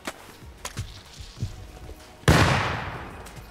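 AK rifle fire in an online survival shooter battle at an oil rig: a sharp nearby blast with a long echoing tail follows a few fainter distant thumps and pops.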